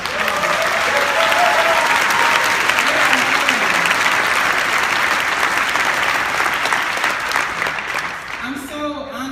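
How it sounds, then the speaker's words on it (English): An award-ceremony audience claps loudly and continuously in a dense, sustained wash that thins slightly near the end, with a voice faintly audible in the last moments. "Let's give them another round of applause."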